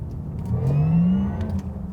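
A Porsche Taycan 4S Cross Turismo plays its electric drive sound as a synthetic motor whine that rises in pitch, swells loudly, then eases off over about two seconds, with no talking.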